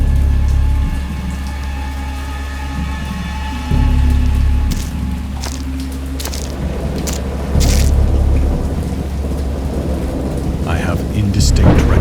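A thunderstorm with rain rolls through in the game Dagon: steady rain and low rumbling thunder, with a louder crack and boom partway through, ambient music tones in the background and no voices.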